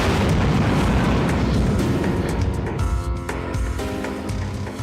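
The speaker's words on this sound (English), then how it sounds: "in this death explosion of the last boss, notice my copter explodes right there as well" The last boss and the player's helicopter explode together in the shooter video game Under Defeat, a loud, dense roar of blasts and rumbling booms that fills the whole stretch and then decays into ringing debris.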